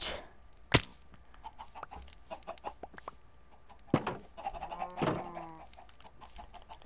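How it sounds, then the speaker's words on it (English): Scattered Minecraft chicken clucks and squawks come in bursts over several seconds among sharp clicks and taps, with no one talking. "Look at me, chicken."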